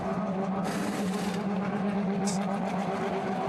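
GT1 race car rolling through the pit lane at the Nürburgring during a Blancpain Endurance Series round, a steady close engine drone with a brief higher hiss partway through, no talking.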